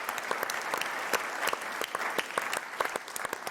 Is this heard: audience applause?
yes